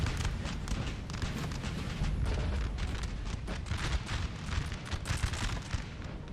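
Musket volleys from massed infantry in the Napoleonic battle game Napoleon: Total War, a faint, distant, continuous crackle of many rapid shots overlapping.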